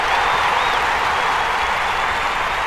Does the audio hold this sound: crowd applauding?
yes